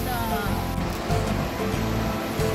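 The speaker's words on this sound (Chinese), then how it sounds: "然后旁边呢，就是听到溪流的声音" A forest stream rushes beside the Neidong trail in Wulai after days of heavy rain, a full, steady watery roar that stays close and constant throughout.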